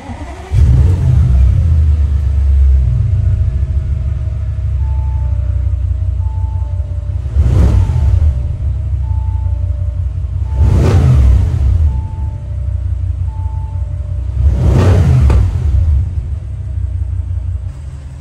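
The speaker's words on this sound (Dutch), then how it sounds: "Nou, we hebben een gemodificeerde S6-uitlaat eronder." Modified Audi S6 exhaust, still without tips, on a car rumbling loudly at close range, with three sharp revs at roughly even intervals over a deep steady idle.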